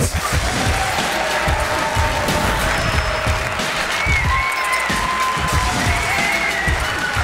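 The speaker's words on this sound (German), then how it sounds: "Einen großen Applaus für Khalid!" A comedy-show audience at a stand-up taping applauds comedian Khalid, a steady wash of clapping with some cheering and crowd noise, dense and sustained throughout, with a few whistles or voices riding on top.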